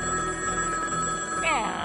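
A telephone line rings on a radio show, a bright electronic trill sounding continuously under someone talking.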